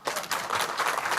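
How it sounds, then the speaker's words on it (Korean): Small audience at a lecture clapping, a brief patter of quick hand claps, fairly soft and close, lasting just over a second. "박수 안 치십니까?"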